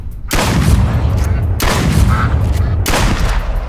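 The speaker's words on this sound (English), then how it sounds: "I need to keep shooting until I get it." Gunshots in the video game Duck Season: three loud, booming blasts spaced about a second apart, each trailing into a rumbling decay, with no clear talk.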